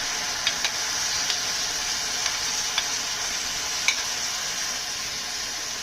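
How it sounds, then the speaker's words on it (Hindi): Spiced yogurt mixture poured into asparagus sabzi in a hot pan, setting off a steady close sizzle and hiss with a few faint stirring clicks, no voices. "अब इसमें हमने जो दही में मसाले मिक्स किए थे वो इसमें हम शामिल करेंगे।"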